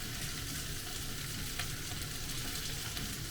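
Cabbage and kikurage mushroom frying for yakisoba, a loud, dense, continuous sizzle with light stirring scrapes throughout.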